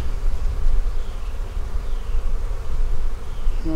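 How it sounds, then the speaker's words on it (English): Honey bees swarm loudly around a crowded hive being moved into a bee barn, their buzzing a thick, unbroken drone heard alone and up close. "Oh, that's a lot of bees."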